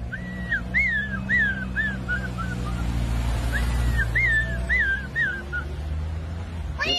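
A man vocally imitates animal sounds, giving a series of rising, yelping, whimper-like calls in two quick bursts over a low steady background hum.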